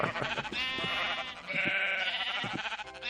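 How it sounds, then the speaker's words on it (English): A crowd of sheep in Minecraft bleating loudly and continuously, with many overlapping calls layered into a harsh, sustained chorus close by. "We've got a whole bunch more sheep now."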